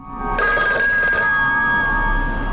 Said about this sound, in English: A mysterious phone call.